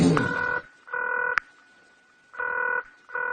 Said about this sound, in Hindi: मैं उन्हें जरा फोन करता हूं